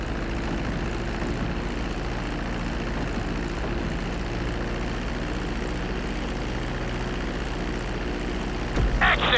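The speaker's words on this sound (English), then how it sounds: "Start reducing the plane's altitude gradually so you're just above the runway as you approach." An airplane descending toward a runway in the video game GTA 5, a steady loud propeller-engine drone holding evenly throughout, with a brief sharp thud near the very end.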